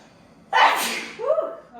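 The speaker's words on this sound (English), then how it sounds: "Sneeze" A single deliberate sneeze during a gentle exercise session, a sharp breathy burst followed by a voiced, sighing exhale.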